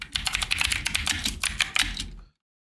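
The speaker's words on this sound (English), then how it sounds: "you're going to type this command." Close, rapid keystrokes on a computer keyboard as a command is typed, with a brief pause near the middle, before the sound stops abruptly into silence.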